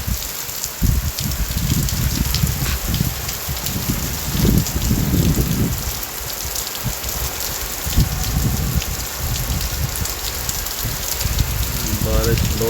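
Heavy rain pours down steadily on a village, a dense hiss of drops on surfaces, with voices talking intermittently underneath.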